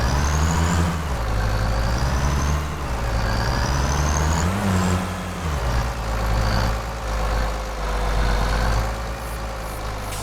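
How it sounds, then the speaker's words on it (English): Steady, loud idle of a truck engine in the Farming Simulator 25 video game, a continuous low rumble with slight pitch wavers and no talk. "I'm going to leave the truck running."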